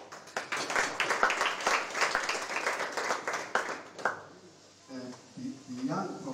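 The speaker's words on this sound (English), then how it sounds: "clap hands for that." An audience at a young professionals' business breakfast claps for about four seconds, a dense patter of many hands, before the applause fades and a voice begins speaking.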